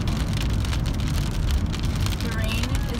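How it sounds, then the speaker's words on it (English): Heavy, wind-driven rain pelts steadily on Independence Pass in the Colorado mountains, a dense continuous hiss and patter heard close, with a faint voice in the background. "The rain is almost really diagonal right now."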